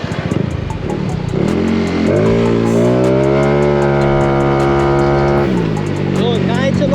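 A tuned Yamaha Mio i 160cc scooter engine revs with the throttle held open, rising into a steady high whine, then dropping back. The sound is loud and close throughout.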